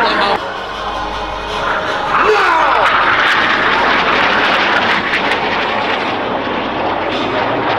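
Northrop F-5 Freedom Fighter jets of the Turkish Stars display team roaring past at the Sanicole Airshow 2022, a loud sustained jet rumble with a rising whine as they pass, with a commentator talking over it.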